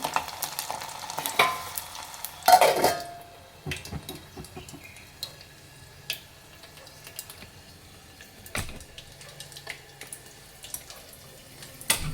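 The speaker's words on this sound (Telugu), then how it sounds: "ఎల్లిపాయలు కూడా మొత్తం బ్రౌన్ కలర్లో వచ్చేంత వరకు అయితే మగ్గించుకోవాలి" Onions sautéing in a pan until browned, for a colocasia (taro) tamarind curry, with quiet frying and repeated stirring scrapes and a couple of louder clatters of utensil against pan.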